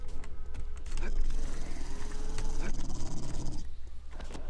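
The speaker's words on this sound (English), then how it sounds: "Oh my god, I killed all three dogs in one shot. It was a dog wandering horde." Dogs attack in a wandering horde in the game 7 Days to Die, snarling and growling up close among sharp bursts and clatter, the noise swelling then dropping away near the end.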